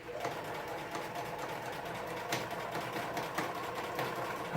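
A sewing machine stitches a window seat cushion cover in a quick continuous whir, moderately close, with brief pauses and faint room noise.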